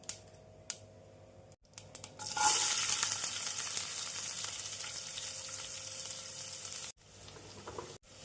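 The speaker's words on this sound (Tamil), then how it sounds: "வெங்காயத்தை நாம் பொன்னிறமாக வதக்க வேண்டும்." Chopped onions sizzle and fry loudly in hot oil with cumin for bread egg masala, a steady crackling hiss with occasional stirring clatter, close up.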